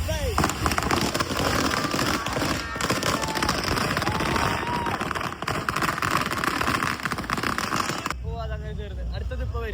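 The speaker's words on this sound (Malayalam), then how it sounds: "ചെറിയ വെടിയൊക്കെ കഴിഞ്ഞു. ഇപ്പൊ വലിയ വെടിയാണ്." Firecrackers at a Ganesh festival in Kasaragod burst in a dense, rapid crackling string, loud and continuous for about eight seconds, with voices talking over the noise.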